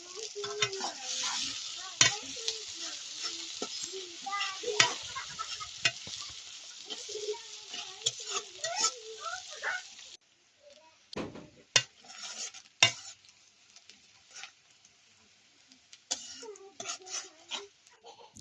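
Onions frying in a pan until browned, a soft sizzle with frequent spoon scrapes and clinks through the first ten seconds, then quieter scattered stirring knocks.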